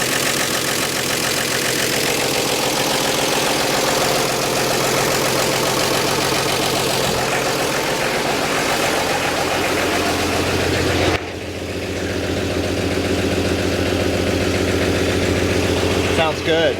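A rebuilt inline six-cylinder engine in a 1948 Chevy idles smoothly and steadily, loud and close with a constant mechanical hum and faint vibration, while people talk over it.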